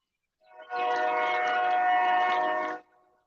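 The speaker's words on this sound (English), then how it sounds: "I got a train track right on the other side of the pond from me." A train on a track just beyond a pond near a fishing creek sounds a single loud, sustained horn blast of about two seconds, rising in quickly and cutting off cleanly, heard from moderately close with no talk.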